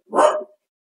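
A dog gives one short, loud bark close by, then falls silent for the rest of the moment.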